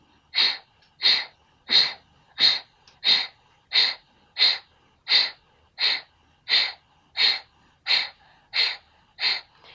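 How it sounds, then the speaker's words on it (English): Sharp, forceful nasal exhales of yoga breath-of-fire breathing, about fourteen quick breathy bursts at a steady even rhythm, close and clear, with short quiet gaps between them and no talking. "begin to take sharp exhales, drawing your navel towards the front of your spine"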